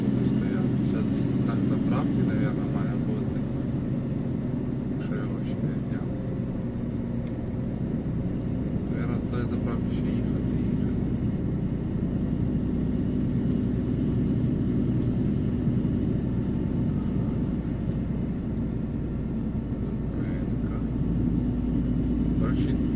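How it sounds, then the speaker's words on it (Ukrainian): Steady low engine rumble of a nearby car on a snowy road in Romania, continuous and fairly loud throughout, with faint voices and scattered noises above it. "Думаю, там машина."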